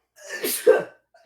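A single person sneezes once at close range, a short sharp burst, during a tabletop role-playing game session; the sneeze stands alone without talk over it.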